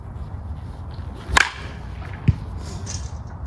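A wood baseball bat meets a ball with one sharp slapping hit, followed by a fainter thud about a second later, set outdoors against steady background noise.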